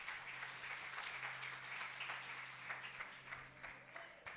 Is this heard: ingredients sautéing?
no